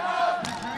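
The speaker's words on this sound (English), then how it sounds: "You can hear them all cheering for their No Coast Derby girls hailing from Lincoln, Nebraska" The No Coast Derby Girls fan section at a 2011 South Region roller derby playoff bout cheers close behind, a dense crowd roar with a rising shouted swell of voices.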